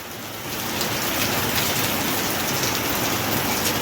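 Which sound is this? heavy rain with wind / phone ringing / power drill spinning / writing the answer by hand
heavy rain with wind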